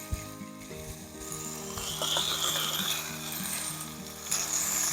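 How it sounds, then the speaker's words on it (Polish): Borage leaves drop into a pan of nearly cooked meat with chili and garlic, bringing a steady, fairly loud sizzle and frying crackle, with scattered clinks and scrapes of stirring. "kiedy już mamy prawie gotowe mięsko, dopiero teraz wrzucam ogórecznika"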